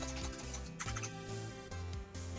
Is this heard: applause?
no